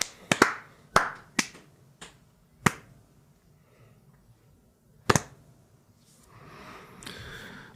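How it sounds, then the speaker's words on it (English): A few sparse, sharp claps ring out one at a time in a quiet podcast studio, spaced unevenly with silence between them and a faint rustle near the end. "An understated clap this Monday morning."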